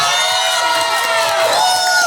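An audience at the Ani-Medford 2022 anime convention cosplay showcase cheers and whoops loudly and steadily for a contestant on stage, with high shouted voices above a dense crowd roar.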